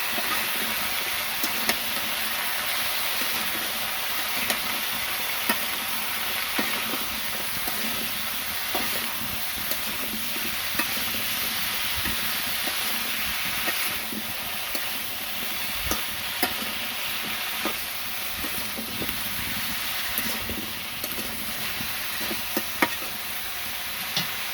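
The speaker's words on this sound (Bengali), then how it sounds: "তারপর একটু নাড়াচাড়া দিয়ে" Food fries in a pan with a steady, loud hiss and sizzle, broken by scattered scraping and clinks as it is stirred after salt is added. It runs close and continuous throughout.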